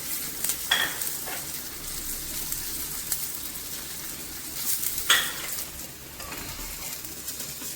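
Pathrode frying in oil on a tawa gives a steady close sizzle, broken by a few sharper scrapes and clinks as the pieces are moved about.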